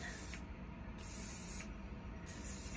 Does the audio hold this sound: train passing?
no